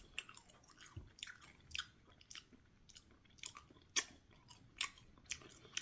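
Someone eats Wendy's ghost pepper fries, faint close-up chewing with soft crunches and wet mouth sounds coming in an irregular rhythm, with no talking.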